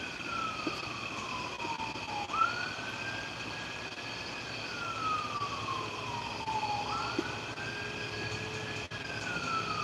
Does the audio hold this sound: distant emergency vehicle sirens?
yes